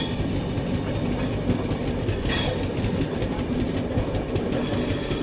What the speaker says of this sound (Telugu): అదే అండి మన మైసూరు హుబ్లీ హంపి ఎక్స్ప్రెస్ అనమాట